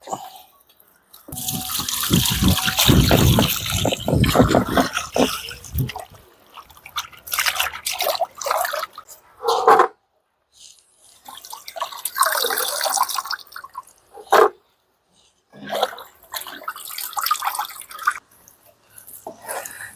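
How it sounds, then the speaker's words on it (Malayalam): Tap water runs and splashes in a sink as raw chicken is rinsed and cleaned for a homemade KFC-style recipe, coming in irregular loud bursts with drips and short quiet gaps. "നമുക്ക് നമ്മുടെ ചിക്കൻ ആദ്യം ഒന്ന് കഴുകി വൃത്തിയാക്കി എടുക്കാം"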